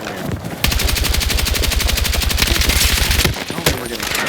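Sustained automatic weapon fire in the video game Battlefield 6, a loud, rapid, evenly spaced stream of shots running for several seconds before breaking off, with a short final burst.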